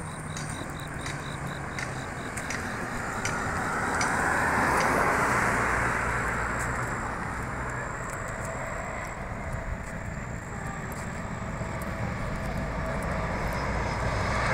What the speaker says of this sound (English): Airplane from Sochi.